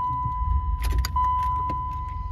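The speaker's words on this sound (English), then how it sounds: "So we'll just go ahead and start the car one more time here just to make sure" A 1993 Cadillac Fleetwood Brougham being started after an oil level sensor replacement, with a short close burst of starter cranking and the engine catching into a low idle, accompanied by a steady electronic chime tone.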